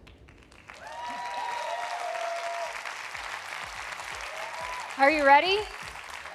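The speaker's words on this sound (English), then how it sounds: "let's all applaud the new 50 Best winners together" Applause from the audience at a restaurant awards ceremony in Las Vegas rises beneath loud stage music, with a presenter speaking over the crowd near the end.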